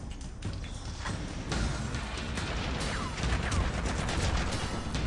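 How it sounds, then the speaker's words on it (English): Heavy gunfire fills a firefight in the video game Haze, with dense rapid shots, crashes and impacts layered over one another, loud and continuous throughout. "Okay, pretty heavy fire,"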